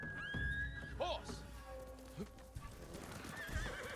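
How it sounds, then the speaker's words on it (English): A horse in the samurai action game Ghost of Tsushima whinnies with a rising, wavering call while hooves clip-clop at a steady walking rhythm, close and fairly loud over a low ambient bed. "Horse!"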